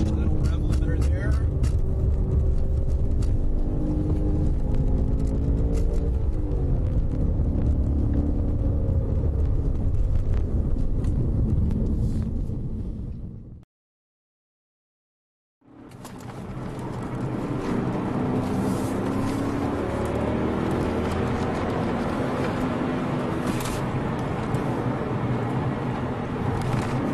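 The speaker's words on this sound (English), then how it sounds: "Little rev limiter there." A BMW M5 engine revs hard and loud from inside the car, bouncing off the rev limiter, with a brief silent cut midway before the engine roar returns.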